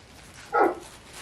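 A single short whine from a small river dog begging for more snack, brief and close at mid-loudness against a quiet indoor background.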